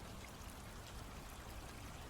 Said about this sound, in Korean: 개울물 소리가 어쩐지 내 머리를 비워주는 것 같았다.